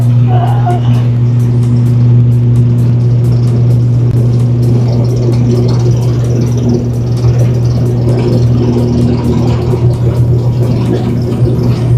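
Airliner engines roar at full takeoff thrust as heard from inside the passenger cabin: a loud, steady, droning rumble with constant low tones that holds throughout, with faint voices underneath.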